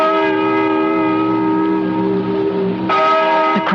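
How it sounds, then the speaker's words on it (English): A resonant church-style bell tolls steadily in a radio drama set in an old barn, its sustained harmonic ring hanging loud and close before a fresh strike near the end, with no talk over it. "Listen to that bell."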